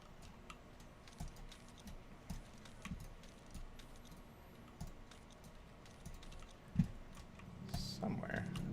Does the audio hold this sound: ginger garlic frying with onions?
no